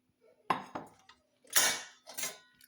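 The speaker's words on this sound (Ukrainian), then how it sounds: "Прибираю ті дві сковорідки, які в мене лишалися" Frying pans from a Tefal Ingenio Emotion cookware set are put away, giving four sharp metallic clanks and scrapes in irregular bursts, close and fairly loud against a quiet kitchen with no talk.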